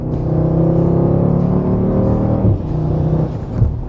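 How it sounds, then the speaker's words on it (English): Deep V8 rumble from a 2020 Dodge Durango 392 SRT with an 8-speed transmission accelerating, heard from inside the cabin as a loud, steady low growl with no voices. "this Durango's got a great sound to it"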